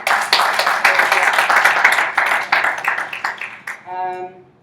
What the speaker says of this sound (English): A big round of applause for our speakers and panelists this evening.